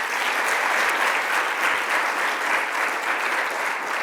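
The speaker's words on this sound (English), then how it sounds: "so let's give them a round of applause" Sustained audience applause at a governor's remarks on the anniversary of Hurricane Sandy, a steady, full wash of clapping from a sizable crowd with no talking over it.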